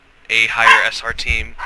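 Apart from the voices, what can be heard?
dogs barking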